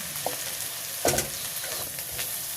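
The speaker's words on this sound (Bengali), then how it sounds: "রসুনটা সুন্দর লাল লাল করে নিছি" Garlic fries in oil in a pan on a gas stove, giving a steady, close sizzle with occasional scraping stirs and no voices.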